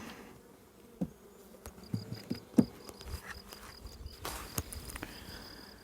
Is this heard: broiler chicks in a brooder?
no